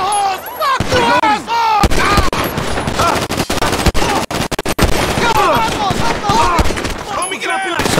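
Rapid bursts of gunfire in the video game GTA V during a gang fight, loud and dense, firing in clusters with short gaps while voices talk over the shooting.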